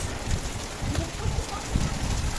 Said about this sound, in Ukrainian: Це для мене пішов дощ.